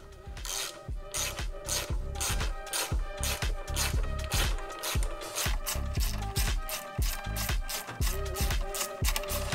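A 3/8 hex driver tightens bolts on bag guards being installed on a Harley-Davidson motorcycle, giving a close, rapid run of regular ratcheting clicks that continues steadily throughout.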